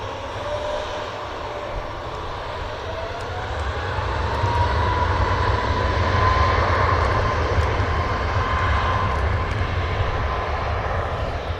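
A Delta Air Lines Boeing 777 at an airport produces a steady, broad jet engine roar that swells slightly in the middle and holds a faint rising whine, with no voices.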